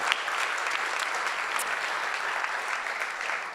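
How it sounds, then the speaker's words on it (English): Steady, dense applause from an audience at a pitch competition event, continuous clapping filling the room at even loudness throughout. "let's give another round of applause to everyone that was up here"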